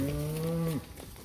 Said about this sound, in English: she's a lighter colored cow